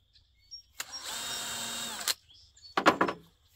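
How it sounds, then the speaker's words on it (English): A power drill pre-drilling holes in lumber for a backyard play structure: one sustained whirring run of about a second, a pause, then a shorter, sharper burst, close by. "Just pre-drilling my holes."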